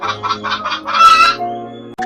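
A hen clucks four times in an even rhythm, then gives a longer, louder squawk, close and clear with no talking.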